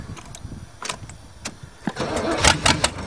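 An old Chevrolet car engine cranks and catches, starting from uneven turning-over bursts that build into louder, rougher firing toward the end, heard close by with no talking.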